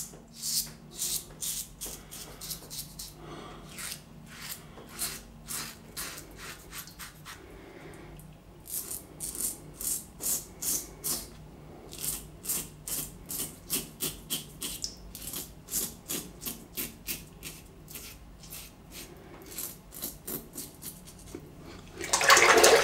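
Rockwell 6S safety razor on plate 5 shaving against the grain: soft, close rhythmic scraping strokes repeating steadily throughout, with a louder rinse or rustle at the very end.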